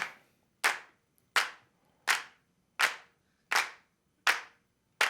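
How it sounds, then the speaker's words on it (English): Eight sharp hand claps at an even, steady rhythm from the intro of a song's percussion track, each crisp and close with a short decay, heard alone with no other instruments. "So it's clapping like that."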